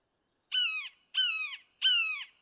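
Three sharp descending screams from a red-shouldered hawk, evenly spaced and loud, ringing out close by with silence between them and no voices.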